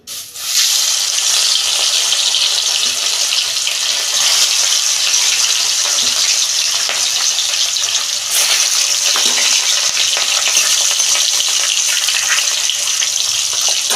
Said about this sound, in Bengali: এই যে তেল গরম হয়ে গেছে আমি মাছগুলো দিয়ে দিচ্ছি